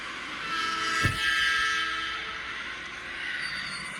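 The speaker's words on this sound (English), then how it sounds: "the oncoming train rushed towards the platform" A train rumbles in with a loud rushing roar and a sharp burst as it passes close by.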